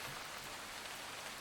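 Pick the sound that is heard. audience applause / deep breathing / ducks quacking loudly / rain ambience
rain ambience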